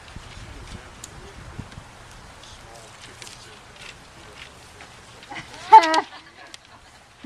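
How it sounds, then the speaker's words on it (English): A loud bantam rooster crow bursts out near the end, rising sharply over faint background chatter and scattered farmyard noises. "bantam rooster shows some attitude"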